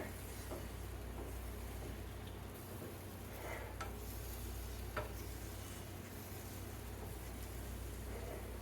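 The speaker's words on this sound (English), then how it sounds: "And then we're just going to pull the eggs in" Eggs sizzle and fry in a pan while a utensil drags and pulls them toward the center, a steady close hiss with faint scraping and no talking.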